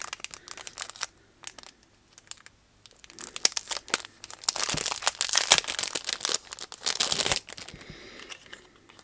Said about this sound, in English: let me take them out because it's always harder to see them through the packaging